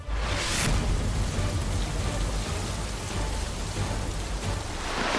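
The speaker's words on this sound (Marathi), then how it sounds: "पाऊस पडतोय ना, जोरात पडतोय पाऊस" Heavy rain pours down in a steady, loud, dense hiss with no voices, and a brief brighter burst near the start.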